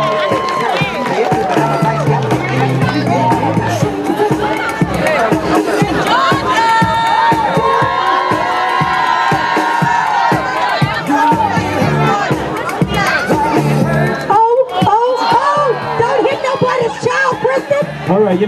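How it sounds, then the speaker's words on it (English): A crowd at a live stand-up comedy show cheers and claps loudly and steadily for the whole stretch, a dense wall of applause with shouts and voices mixed in. "Y'all gotta give a round of applause for that, Donja."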